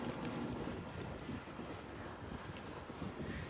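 Steady wind buffets a home vegetable garden with carrots and potted grapes, a continuous loud rushing roar that thumps against the microphone, with no voices.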